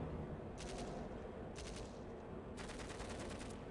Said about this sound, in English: Okay, so it starts with gunshots